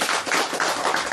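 Audience applause at a spoken talk, a dense steady burst of many hands clapping together, loud and continuous for the whole moment.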